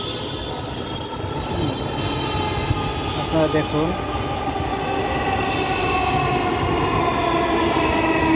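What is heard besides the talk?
metro rail train arriving at Shewrapara station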